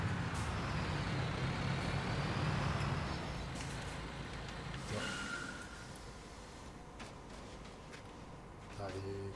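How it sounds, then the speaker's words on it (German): A construction truck in Bau Simulator idling and rolling with a steady low engine drone, a sharp air-brake hiss near the middle and a few short clicks and beeps at the end, with someone talking over it. "Packen unseren LKW mal kurz hier vorübergehend erstmal hier hin."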